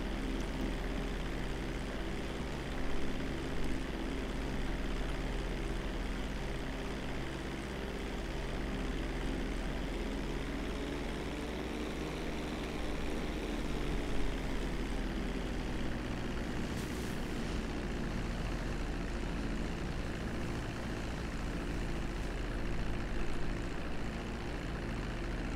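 An airplane flying in GTA V: a steady propeller engine drone holds close and loud throughout, its pitch shifting gently mid-span, with no talk.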